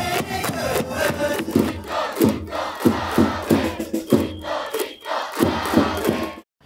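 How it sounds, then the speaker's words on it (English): Baseball fans cheer out loud at a Rakuten Eagles home opener, a dense stadium crowd roaring and chanting with rhythmic bursts and drum-like thumps throughout. "fans can now once again cheer out loud for the team"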